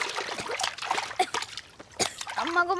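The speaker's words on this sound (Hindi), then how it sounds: "पानी में गुड़गुड़ करने लगे" Splashing in water as a boy struggles, irregular close splashes and sloshes in bursts, mixed with excited voices from people nearby.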